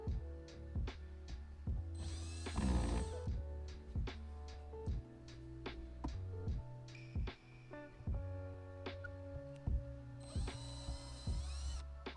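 A power drill whirs in several short bursts with pauses between, drilling small holes for an armrest install in a K13 Nissan Micra, plus clicks and handling noises of tools nearby.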